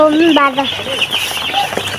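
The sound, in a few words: chicks chirping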